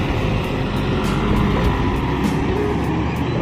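A bus accelerates hard along a road in Aneuk Galong, its engine roaring loudly and steadily up close with a broad rushing road noise throughout.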